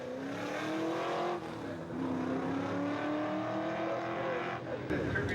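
Five-litre Ford Mustang racing car with an Australian racing history, engine droning steadily through a timed run, pitch rising and falling with gear changes, loud and continuous with talk partly over it.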